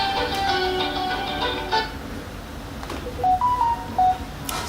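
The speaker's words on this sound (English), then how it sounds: "Excuse me, I just need to switch that phone" A phone gives off a string of electronic tones and beeps, fairly close, starting as a steady sequence of pitched notes and ending in a few short stepped beeps, with no one speaking.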